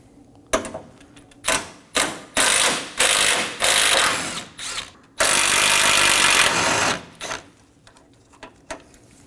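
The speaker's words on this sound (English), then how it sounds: "Now I'm going to go ahead and remove my two 8mm bolts." A power ratchet removes two 8mm hood latch bolts on a 2011 or later Dodge Durango 5.7L V8. It runs in a series of short whirring bursts, then one longer sustained run, then a few faint clicks as the work ends.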